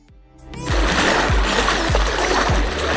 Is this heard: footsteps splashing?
yes